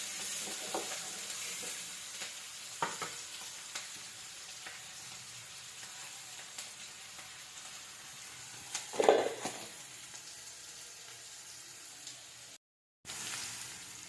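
Vegetables for veg fried rice frying in oil over a high flame, a constant sizzle with occasional stirring scrapes and one louder clatter, close by, cutting out briefly near the end.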